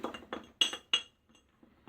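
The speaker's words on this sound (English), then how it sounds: "I'm sorry for the clinking" A shaving brush is worked vigorously in a soap tub, producing a series of irregular bright clinks and knocks, close and fairly quiet, with pauses between.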